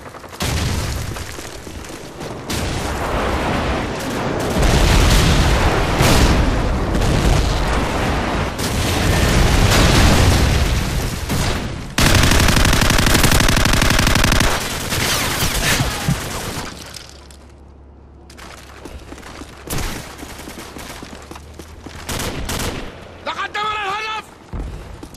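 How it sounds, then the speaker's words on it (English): Airstrike explosions and gunfire in the Call of Duty 4 video game, with dense, loud booming blasts and crackling shots filling most of the stretch, a quieter lull late on, and game voice callouts mixed in. "Friendly airstrike on the way!"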